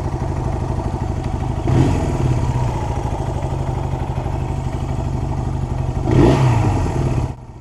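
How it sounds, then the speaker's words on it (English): A Honda CL175 cafe racer motorcycle engine idles steadily at low revs, a continuous close mechanical thrum with two brief swells in the middle and near the end, and no voices. "I got this idling around 1200 to 1300 RPM"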